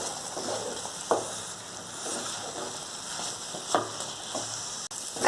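Semolina upma cooks in a pan over a high gas flame, giving a soft, continuous sizzle with a few sharp clicks and scrapes scattered through.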